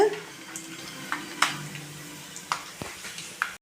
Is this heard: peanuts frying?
yes